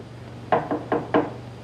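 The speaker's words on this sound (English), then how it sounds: "There's someone at the door." Four sharp knocks on a door in a steady, moderately loud pattern, heard alone with no talk.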